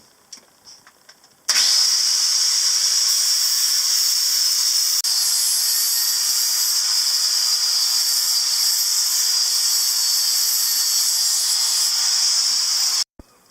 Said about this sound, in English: Grinding off the side of the thing.